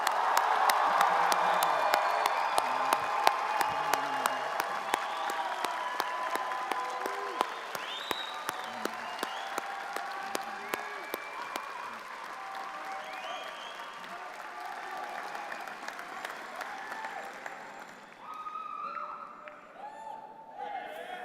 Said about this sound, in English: So please, cheer for each other.